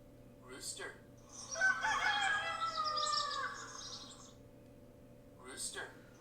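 A rooster crow from a video game rings out in the middle, a drawn-out electronic-sounding call framed by short bursts of voice before and after.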